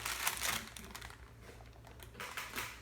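Parchment paper on a cookie sheet of baking bread crinkles and rustles in short bursts close by, fading quieter in the middle before another burst at the end.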